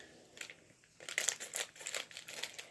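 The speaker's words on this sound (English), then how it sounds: "Cut open this clay." A package of rose neon pink clay being cut open, giving faint crinkling of plastic wrap that turns louder and busier with rapid crackling rustles, close and without talk.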